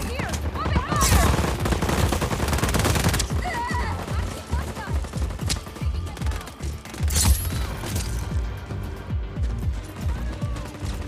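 Loud bursts of gunfire from the action game Just Cause 4, with rapid volleys and sharp single shots layered over a dense, continuous mix of game combat sounds and music across the whole stretch.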